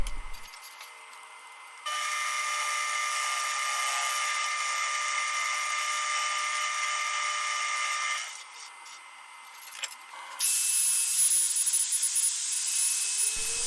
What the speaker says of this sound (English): I would take down the high spots with the drill